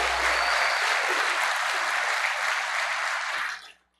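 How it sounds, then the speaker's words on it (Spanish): A church congregation claps together in a full, dense burst of applause that holds steady for a few seconds, then cuts off quickly into near silence. "A ver, un aplauso de victoria al Rey de Reyes."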